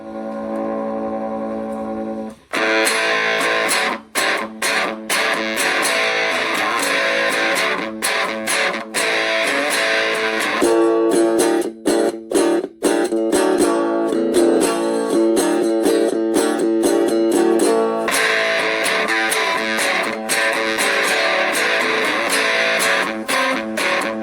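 An electric guitar played through two cascaded cheap speaker amps with every volume turned all the way up roars with heavy, fuzzy distortion, loud and continuous with chopped chords and brief gaps, no talking.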